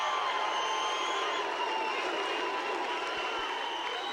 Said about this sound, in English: He stood silent on stage as more than 3 minutes of applause flooded over him.